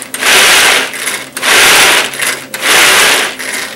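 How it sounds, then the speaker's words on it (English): A Tupperware Power Chef pull-cord chopper grinds peanuts in three loud, close whirring bursts of about a second each, with short pauses between pulls and no talking. "It's got the ring and then the smaller with the little pull cord motor on it."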